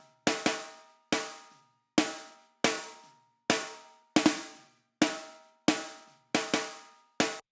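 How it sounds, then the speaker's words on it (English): A live snare drum played in a classic soca pattern, about a dozen sharp, ringing hits alone in a steady syncopated rhythm, some strokes landing in quick pairs. "And then we have a snare, which is a live snare."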